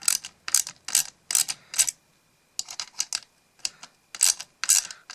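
Bursts of rapid ratcheting clicks from a tool loosening the nut on a Shimano pedal axle, in several short runs with brief pauses between them, close and fairly loud.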